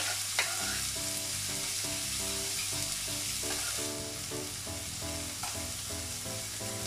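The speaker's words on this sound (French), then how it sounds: "On y met notre oignon." Chopped onion sizzles in olive oil in a pan for homemade tomato sauce, a close, steady frying hiss broken by repeated soft scrapes and stirs, with no one talking.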